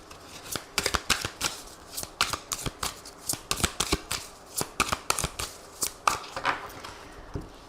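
Tarot cards are shuffled by hand close up, making crisp, uneven riffling snaps in quick irregular bursts. No one speaks over the shuffling.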